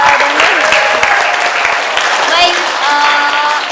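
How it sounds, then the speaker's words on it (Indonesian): An audience at a mental health literacy talk breaks into applause, a dense, steady patter of many hands clapping close by for a few seconds, with voices speaking over it. "silakan tepuk tangan buat Dani"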